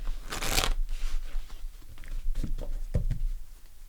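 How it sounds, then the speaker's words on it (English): Tarot cards being shuffled close by, a brisk riffle followed by a few softer slaps and shuffling taps, fairly quiet. "One more shuffle."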